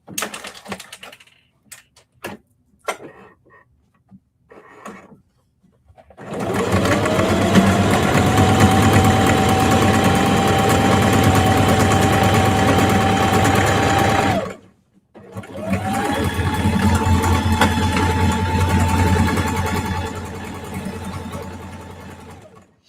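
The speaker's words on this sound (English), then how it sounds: "So now I can sew the bottom." A sewing machine stitches the bottom seam of a denim tote bag, running in two long, steady, close bursts separated by a brief pause, after a few faint clicks at the start; no one speaks.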